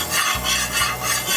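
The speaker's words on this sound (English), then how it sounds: "We're gonna throw a little bit of butter down here." Butter hitting a preheated Skottle griddle before smash burgers, a close, steady sizzle and scraping hiss with no voices.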